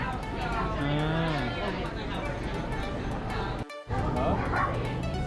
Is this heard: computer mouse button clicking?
no